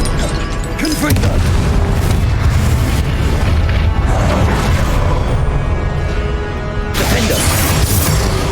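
A Confringo explosive spell blast in Hogwarts Legacy, a loud booming burst followed by sustained rumbling and crackling debris, with a second sharp blast near the end.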